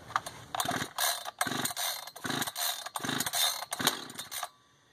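An Echo CS-590 Timberwolf chainsaw being pull-started: six rapid ratcheting rasps of the recoil starter in a regular rhythm, close and loud, ending without the engine catching.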